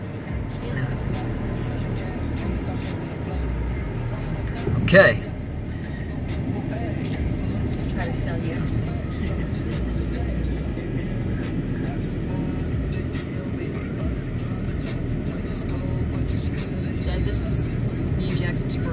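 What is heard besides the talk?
car driving on the interstate onto a bridge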